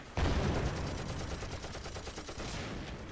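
Sustained gunfire and explosions from a StuG assault gun and infantry weapons in the Close Combat WWII strategy game, Battle of Belgorod: a loud opening blast followed by dense, continuous rattling fire with repeated sharp reports throughout.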